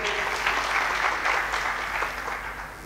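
A conference audience applauds the school director as he comes up to speak, a dense steady burst of clapping that fades slightly at the end.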